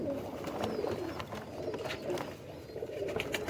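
Several Rampuri pigeons, four males and three females, coo in low, throaty, repeated calls close by, overlapping continuously with soft rustling in between.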